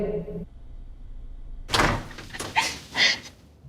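After a brief tone and a quiet pause, a door is opened with a clunk of the latch followed by a couple of scraping, rattling movements nearby.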